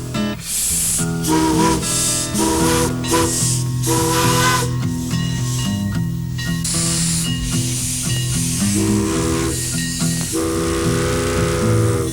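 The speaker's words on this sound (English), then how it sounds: "aboard one of a dying breed, an actual steam locomotive" A 1924 steam locomotive on the Mount Rainier Scenic Railroad lets off a loud, continuous hiss of steam while its whistle sounds in long, layered tones that start and stop throughout.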